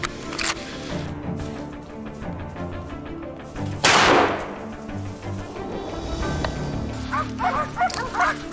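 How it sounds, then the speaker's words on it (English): Dogs barking and yipping as they chase wild boars away from a farmhouse, mixed in with a loud crack and whimpers under a continuous background soundtrack. "the dogs charged out to chase the wild boars away from the house"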